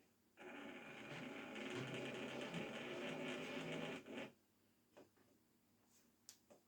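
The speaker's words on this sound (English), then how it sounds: "you can probably hear that that motor's not very happy." A Hornby model locomotive named Belfast runs with a struggling motor, giving a faint, rapid rattling whir for about four seconds before stopping, followed by a few isolated soft clicks in near silence.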